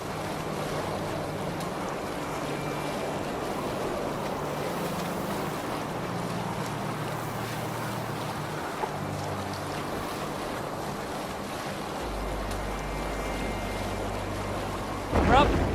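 A Viking longship in Assassin's Creed Valhalla pushes through an icy fjord, with steady rushing water, waves and wind noise running continuously, swelling briefly at the end.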